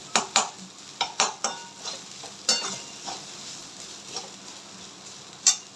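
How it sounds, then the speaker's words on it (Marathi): Chilli paneer fried rice being stirred and tossed in a pan, with sharp scraping clinks of a spatula against metal coming in irregular bursts over a faint sizzle. "बघा व्यवस्थित मिक्स करून घ्यायचं आपल्याला हे"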